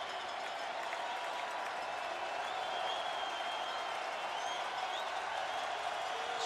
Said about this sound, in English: Crowd again being heard from.